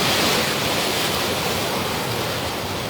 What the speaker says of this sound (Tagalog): Laki ng alon, abot hanggang dito na eh, oh.